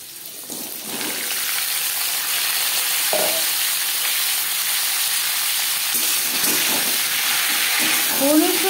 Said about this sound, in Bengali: ফোড়নে দিয়ে দিলাম সামান্য পরিমাণে গোটা জিরে। দশ 15 সেকেন্ড জিরে ভেজে নেওয়ার পর দিয়ে দেবো পেঁপে।